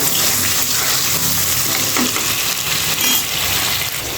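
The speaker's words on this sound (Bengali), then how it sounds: "তো পটলটা আমি খুব লাল করে ভেজে নেব।" Pointed gourd (potol) pieces frying in hot oil, a loud, dense, continuous sizzle up close with a faint stir partway through.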